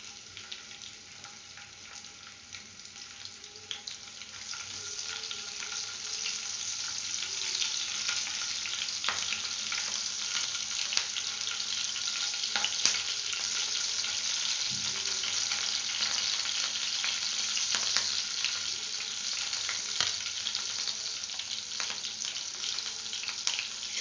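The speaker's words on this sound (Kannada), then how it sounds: "ಒಂದು ಸ್ವಲ್ಪ 3 ಮೆಣಸಿನ್ಕಾಯಿನ ಹಾಕ್ತಾಯಿದ್ದೀನಿ ಕಟ್ ಮಾಡಿ." Three chopped green chillies fry in a pan for a potato palak masala, a steady close sizzle with occasional stirring and clinks, building slightly louder over the duration with no talking.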